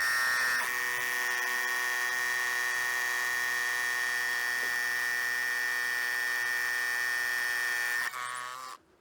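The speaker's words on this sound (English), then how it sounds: "drill a 6mm hole right through the wood into the sandstone" A drill bores a 6mm hole through wood into sandstone to fix a gate post to a wall, producing a loud, steady motor whine that holds for about eight seconds before winding down.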